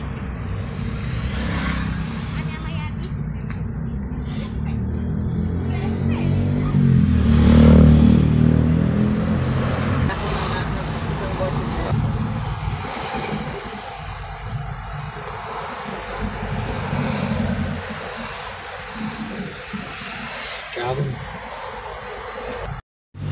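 Cars lined up along the roadside at a COVID-19 vaccination site produce a continuous traffic hum, with engine rumble swelling as a vehicle passes about a third of the way in.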